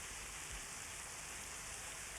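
Rain falls at night as a soft, even hiss of broadband patter, faint and continuous with no distinct drops or voices.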